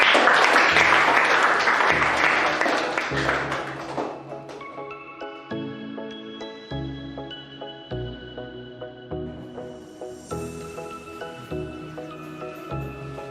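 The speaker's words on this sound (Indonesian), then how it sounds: "Tepuk tangan yang punya untuk kelompok 2." Applause for a school group's presentation fades out within a few seconds, then gives way to a steady musical passage with repeated low notes and a regular beat.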